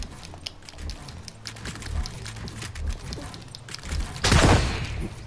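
Shots in a video game trick shot, a 360 spin with a Boombo and then a sniper rifle: one loud blast near the end follows scattered lighter pops and a low background rumble.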